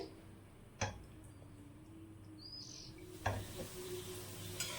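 Gulab jamun sweets deep-frying on low heat in oil, giving a faint, steady hiss and gentle bubbling, with a couple of sharp utensil taps against the pan.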